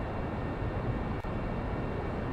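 A VTOL aircraft engine in Kerbal Space Program runs at full throttle, producing a loud, steady, dense roar that continues unbroken apart from one tiny glitch.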